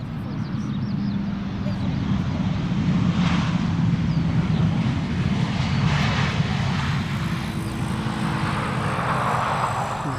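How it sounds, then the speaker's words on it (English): Kuwait Airways A320neo airliner taxiing toward the center runway at Schiphol Airport, a steady broad engine roar with low rumble and wind noise, continuous and moderately loud throughout. "this is Kuwait Airways A320neo. On its way to the center runway, flight 127."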